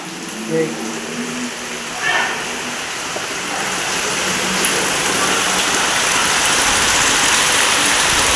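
Heavy rain pours down onto a house yard, a loud dense rushing hiss that grows stronger and steadier, with a few faint voices heard early on.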